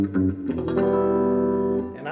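A single sustained electric guitar chord through a Monoprice Stage Right 5-watt tube amp with its reverb rings out with a bright, reverberant tail, sounding close and clean before fading at the end.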